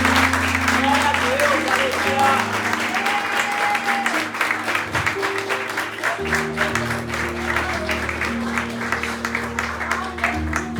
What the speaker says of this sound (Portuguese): E eu gostaria que você aplaudisse ao Senhor